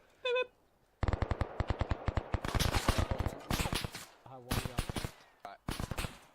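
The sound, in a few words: gunfire in a video game roleplay shootout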